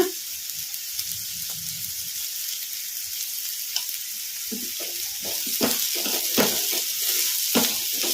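Cluster beans fry on a medium flame with a continuous hissing sizzle, broken by a few spatula scrapes and knocks against the pan.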